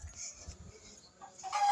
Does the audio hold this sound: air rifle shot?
no